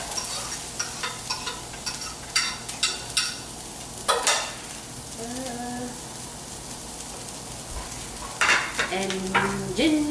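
Chopped onion sizzling in a spray-oiled pan, a steady crackling fry with intermittent spatula taps and stirring scrapes, brief voice fragments over it.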